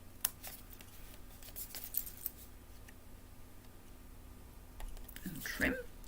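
Paper is trimmed for a handmade card with a few sharp, close snips and clicks of a cutting tool, scattered and faint against quiet room tone, with soft handling noise near the end.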